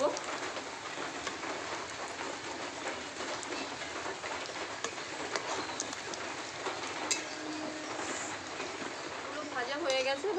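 Flipped biscuits keep frying in hot oil, giving off a steady close crackle with scattered pops and a faint scrape near the end.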